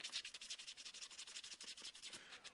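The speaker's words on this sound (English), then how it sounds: "So I'll do a quick sand on the end of this." Sandpaper rubbed against the end of a turned wooden egg on a lathe gives a soft, rapid rhythmic scratching, even and continuous, close and fairly quiet with no voices.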